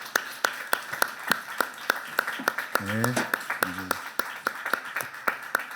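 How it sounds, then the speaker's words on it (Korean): A church congregation claps in a steady, evenly spaced rhythm of sharp, crisp claps through the whole stretch. A voice sings or speaks briefly in the middle, and the claps continue around it. "오늘 우리의 찬양을 받으신 하나님께 큰 박수로 우리 하나님께 영광을 돌립시다."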